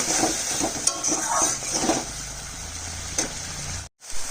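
Spice paste frying in a pan for a potato and eggplant dish, with a steady close sizzle and repeated scraping stirs early on that settle into a calmer hiss before a brief cut.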